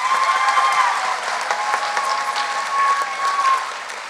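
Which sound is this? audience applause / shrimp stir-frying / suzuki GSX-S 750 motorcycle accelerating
audience applause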